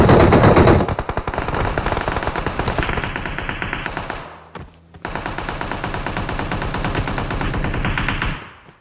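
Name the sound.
gunfire in the video game PUBG Mobile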